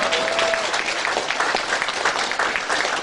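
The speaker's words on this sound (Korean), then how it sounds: "시 한번 큰 박수 주시기 바랍니다" A crowd gives sustained, dense applause at the opening of a Democratic Party mayoral candidate's campaign office in Pocheon, loud and continuous with a brief voice at the start.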